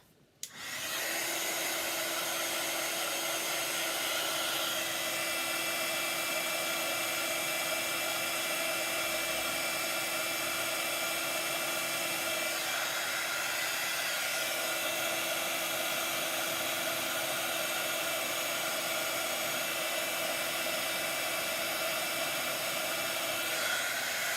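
A crafting heat tool blows steadily to warm embossed card stars, a constant close whooshing hiss that starts abruptly and runs alone without pause.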